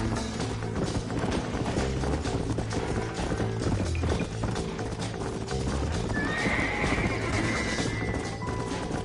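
Horses gallop with steady clip-clop hoofbeats and loud neighs in Red Dead Redemption, set against a dense, continuous game soundscape with music and effects.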